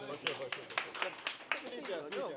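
A small audience at a wrestling ranking event claps in scattered, distinct hand claps, with some voices talking over the applause.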